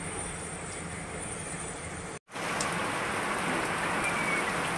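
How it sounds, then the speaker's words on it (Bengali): Heavy rain drums steadily on and around a run-down sack-walled house, a thick, constant roar that cuts out briefly and then returns even fuller. "বিশাল জোরে বৃষ্টি এসেছে এখন।"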